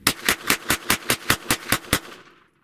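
A Glock G44 .22 pistol fires about ten rapid, evenly spaced shots at close range, each a sharp crack, with a short decaying tail after the last.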